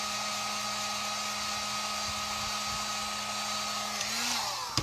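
A hair dryer blows steadily and close by with a constant whirring hum, drying paint on a craft letter for a face mask holder, and nobody speaks over it.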